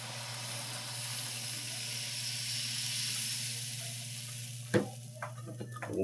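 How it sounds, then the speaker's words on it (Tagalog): Beef sizzles and hisses steadily in a frying pan with oil, garlic and onion, with a few sharp stir-scrapes and bursts near the end as water is added for broth. "Lagyan natin tubig, pansabaw."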